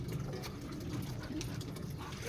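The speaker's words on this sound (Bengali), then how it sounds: "তোজোর মা গাছকে নানু, ওই সব গাছকে স্নান করিয়ে দিচ্ছে" Water poured over potted plants, a faint continuous splashing and trickle with brief louder gushes, soft and fairly distant.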